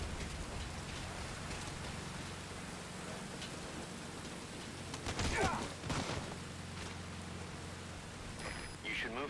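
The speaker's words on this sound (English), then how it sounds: "rain just won't let up" Steady rain falls across an outdoor area in Metal Gear Solid V, a constant hiss running alone throughout, with a brief louder rustle or splash partway through.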